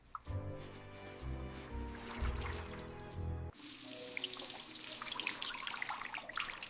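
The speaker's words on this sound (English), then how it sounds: "I rinse the bowls and spoons thoroughly under running water." Tap water runs at a kitchen sink while dishes are rinsed, a steady close rush with some clinking of bowls, growing broader and brighter partway through, with no voices.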